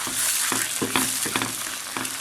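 Egg frying in a hot pan is stirred with wooden chopsticks, a continuous sizzle broken by five or six rhythmic scraping strokes against the pan.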